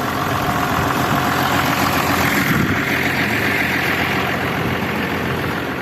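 Tractor engine running steadily under load while discing in snow, a loud, continuous low rumble with slight wheel slip, close by and unbroken for the whole stretch.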